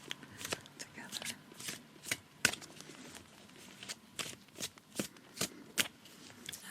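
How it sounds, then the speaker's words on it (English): Oracle cards being shuffled by hand, with a steady run of crisp riffling slaps and flicks repeating about once a second, close and fairly quiet, with no talking over it. "As I'm shuffling,"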